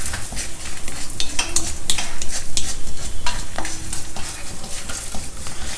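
Dals, two dry red chilies and hing crystals frying in a pan until golden, a dense, close sizzle broken by repeated clinks and scrapes of a stirring spoon.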